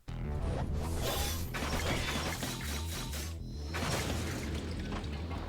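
Smashing sound effect from the visual novel Fate/Stay Night as bone creatures are broken apart, a dense continuous clatter of crunching and grinding mechanical noise with deep pulsing thuds, steady and loud throughout.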